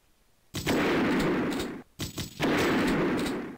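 Two long, loud bursts of automatic gunfire in Platoon TC, a Duke Nukem 3D mod, each lasting over a second with a short gap between them, harsh and close with no speech.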